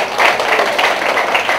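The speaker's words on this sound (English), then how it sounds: "clap your hands to Jesus" Wedding guests clapping their hands together during a church-style ceremony, a brief burst of dense, close applause with rapid overlapping claps that stays fairly steady throughout.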